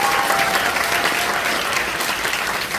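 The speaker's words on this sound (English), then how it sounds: "So give them a round of applause." A concert audience of community and middle school bands gives a round of applause, a dense, sustained wash of many hands clapping steadily throughout.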